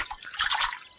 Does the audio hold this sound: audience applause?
no